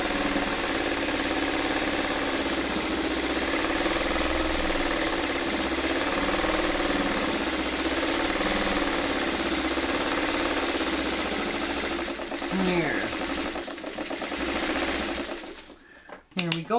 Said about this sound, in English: just a couple of back stitches just to hold that in place